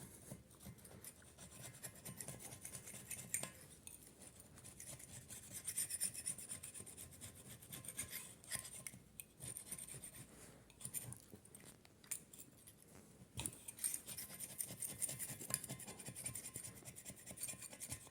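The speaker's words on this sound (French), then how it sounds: "Un grattoir comme ça, et on y va, on gratte." A hand scraper rasps an old gasket off the cast block of a Triumph Spitfire Mk3 engine, steady scratchy strokes continuing close up for the whole stretch with brief pauses, no talking.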